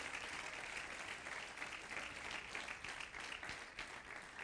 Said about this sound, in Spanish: Denle ese aplauso al Rey de Reyes